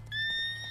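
Roach, the horse in The Witcher 3, gives a brief, thin whinny lasting under a second, a clear tonal neigh that holds steady before fading out.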